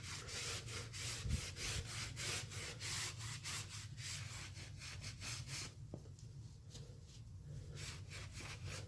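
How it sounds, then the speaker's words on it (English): Wax is buffed by hand onto a painted mirror, producing rhythmic, fairly quiet back-and-forth rubbing strokes, a regular scrubbing pattern that continues throughout. "I'm doing a lot of heavy rubbing, and I don't need to. I can rub it lightly. It really just needs to be a buff."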